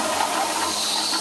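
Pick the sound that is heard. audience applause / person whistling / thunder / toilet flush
toilet flush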